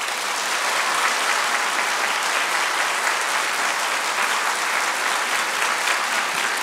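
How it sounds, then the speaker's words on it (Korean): Steady, full audience applause in a church hall greeting a lecturer as he comes forward, continuous dense clapping with no break. "고 박사님 나오실 때 큰 박수로 환영해 주시면 감사하겠습니다"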